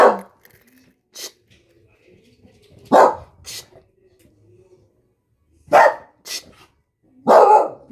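Several loud dog barks come in bursts with quiet gaps between them, a couple of high yips mixed in, and no talking.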